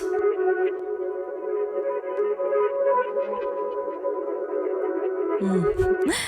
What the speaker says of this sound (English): I did find this atmospheric flute